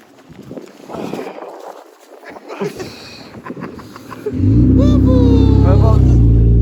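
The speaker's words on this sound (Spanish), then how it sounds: "Ahí viene un carro." A car approaches and rolls past on a frozen, salted street after a blizzard in Buffalo, NY, its loud low engine and tire rumble swelling up suddenly after quieter moments of talking and footsteps, then holding steady and close.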